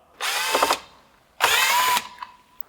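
A power tool removes Torx screws from a car's front grill on a Mk7.5 GTI in two close, loud whirring bursts of under a second each, separated by a short pause.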